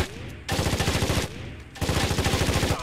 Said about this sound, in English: I can hear lots of gunfire.